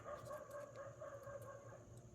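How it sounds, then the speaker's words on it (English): A dog in the background barks repeatedly in a steady series of muffled, rather faint barks with a constant hum underneath. "Sorry for the dog in the background, if you can hear that."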